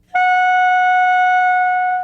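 A clarinet mouthpiece and reed blown on their own give one loud, piercing, steady squeal of about two seconds, starting abruptly and holding a bright, buzzy pitch.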